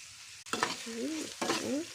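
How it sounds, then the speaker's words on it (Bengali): Onions and green chilies fry in a pan for a bitter gourd stir-fry and are stirred. A close, steady sizzle carries two brief bursts of scraping stir noise. "উস্তা ভাজির জন্য এখন পেঁয়াজ দিলাম, কাঁচামরিচ দিলাম, পেঁয়াজগুলো একটু কষাই"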